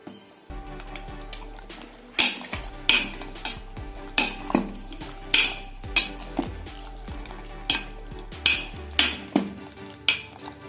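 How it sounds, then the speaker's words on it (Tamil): Ground sambar masala is stirred into a pot with tomatoes, a spoon knocking and scraping the metal in a steady run of sharp clinks over a faint simmer. "நல்லா கலக்கி விட்டுக்கலாம்."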